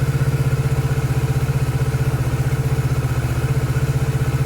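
A 2019 Kawasaki ER6 Z650 motorcycle engine, running again after a clogged fuel pump sock was cleared, idles close and loud with a fast, even pulse that holds steady throughout.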